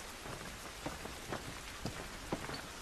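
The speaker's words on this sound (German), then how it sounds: "Dieser Regen ist nicht gut für uns." Steady rain falling in The Last of Us video game, a dense, even patter with scattered heavier drops across the whole stretch and no voices.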